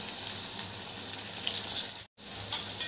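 Potatoes frying in oil in a pan for sabudana khichdi, a steady close hiss and sizzle with crackly spatter throughout, briefly cutting out near the end.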